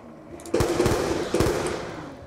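Gunfire in the zombies game Black Ops 2 Buried, two sharp bursts of shots about a second apart, loud and close over a steady, dense background of game noise.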